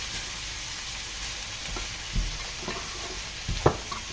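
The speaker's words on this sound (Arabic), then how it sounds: "غادي نشحرهم هكذا واحد شويه" Peas and vegetables for a seafood paella sautéing in a pan, a continuous soft sizzle with occasional scraping stirs and a few sharper clicks near the end.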